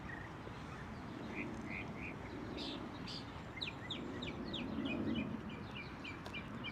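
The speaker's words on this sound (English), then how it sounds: "Ooh, I've been hearing these birds all day." Outdoor birds chirp in short, high repeated calls over a steady low background rumble, moderately distant and fairly faint, in Fort Tryon Park, New York City, in spring.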